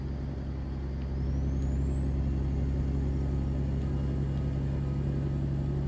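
Heavy truck's Cummins C-15 diesel engine in American Truck Simulator, a steady deep droning rumble that rises slightly in level as a high whine climbs and settles into a constant tone.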